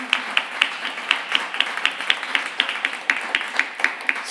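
Scattered applause from a small studio audience for a musician after a live radio performance, irregular claps at moderate distance, fairly light and thin rather than a full roar.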